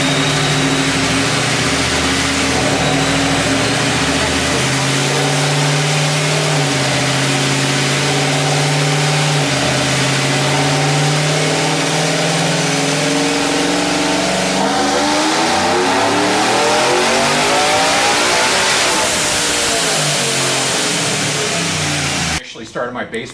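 Supercharged 2025 Ford F-150 5.0 V8 with an ESS supercharger on a 100 mm pulley revving loudly and continuously, engine pitch rising and sweeping near the end before cutting off abruptly.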